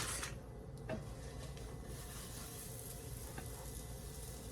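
Cajun chicken sears in a hot pan with a steady, soft sizzle and crackle throughout, broken by a brief clatter of utensil or pan near the start.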